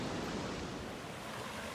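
A small river near a waterfall in the 4000 Islands area of Laos, rushing in a dense, unbroken hiss close to the microphone, with nothing else heard above it.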